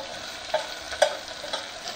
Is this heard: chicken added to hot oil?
yes